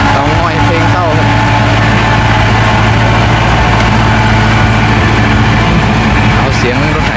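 A loud Kubota tractor engine chugs steadily up close while grading a dirt road, its low rhythmic rumble constant throughout with a faint background voice.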